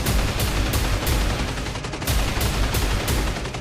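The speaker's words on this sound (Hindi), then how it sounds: "गोलियों की तड़तड़ाहट से पहाड़ियां कांप रही हैं।" Gunfire in the Kashmir hills, loud rapid bursts of automatic shots cracking in a steady rhythm over a dense rumbling background.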